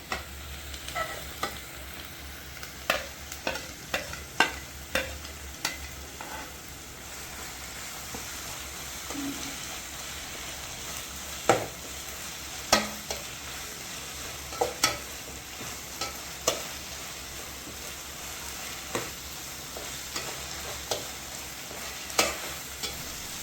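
Chicken salna base being stirred and fried with ginger garlic paste in a pan, a steady sizzle under repeated sharp scrapes and taps of the spoon, close and fairly loud, no talking.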